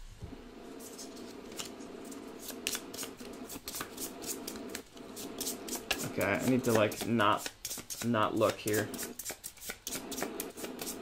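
Crisp rapid riffling of cards, quick snapping bursts, close up, with a person talking briefly at the start.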